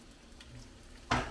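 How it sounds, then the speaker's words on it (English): Giant prawns fry in a hot pan in Angeles City, giving a low, steady crackling sizzle that flares into a louder burst near the end. "There it goes. A little sizzle going."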